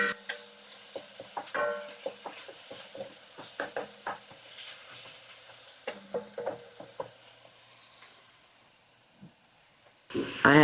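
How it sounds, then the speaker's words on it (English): Paste cooking in a pan gives off a soft sizzle while a utensil scrapes and stirs in uneven bursts, followed by a short gap and a louder clatter of the pan near the end. "we just want to cook that paste just for 1 minute"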